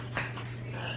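A tiny new puppy gives a brief, soft whimper near the start, followed by quieter fussing over a steady low hum, with no one speaking.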